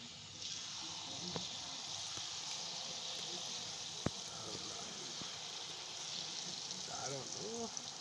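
Jalebi batter made from ration flour is piped into hot oil and fries with a steady, faint hissing sizzle, with a few small clinks and a voice speaking softly in the background.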